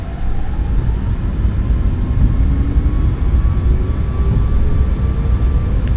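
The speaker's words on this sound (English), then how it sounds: "Takeoff power is set." Boeing 737 MAX 8 jet engines spooling at takeoff power in the iFly flight simulator give a steady, loud roar. A faint rising whine sits over deep rumbling noise throughout, with no voices.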